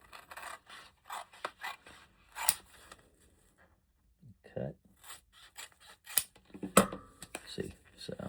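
Leather pieces for a bifold wallet being cut, with short rasping, scraping cuts in bursts separated by pauses and a few sharp clicks, close by and fairly quiet.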